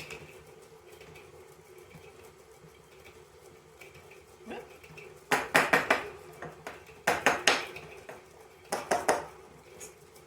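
Metal cutlery and measuring spoons clatter in bursts as a clean spoon is pulled from a kitchen utensil drawer, with several loud rattling clusters over faint background room noise.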